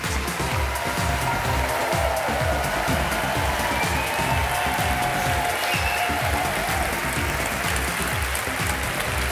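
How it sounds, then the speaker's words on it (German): A large audience at a comedy awards show in Zürich breaks into loud, sustained applause to welcome the host, a dense unbroken wash of clapping with faint cheers mixed in. "Bitte begrüßen Sie mit einem großen Applaus Ihre Gastgeberin, Nadia Chudhat."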